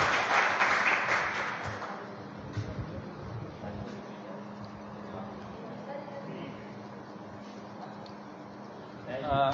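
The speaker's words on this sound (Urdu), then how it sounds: "بھائی تالیوں میں کنجوسی نہ کریں بھائی" An audience claps at a school award ceremony, with a louder burst at first that thins into scattered clapping under background chatter and room noise.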